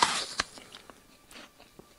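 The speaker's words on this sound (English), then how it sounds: "he just keeps chewing" A character chews wetly in a horror video game, a burst of crunching followed by slow irregular mouth clicks and smacks fading to quiet, close and isolated.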